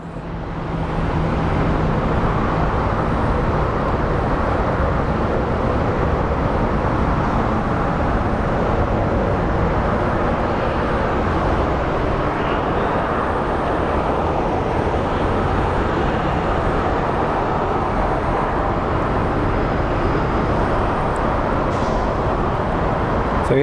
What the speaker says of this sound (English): So here comes the Southwest as it crosses the bridge.